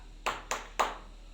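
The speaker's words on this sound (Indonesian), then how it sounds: "Baru tepuk tangan ya, yang seramai-ramainya." Children in a classroom clap together in three sharp, evenly spaced claps, crisp and close in an otherwise quiet room.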